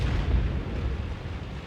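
In the World of Tanks video game, a shell strikes a tank with a deep, rumbling boom that fills the short moment, loud and close with no voices.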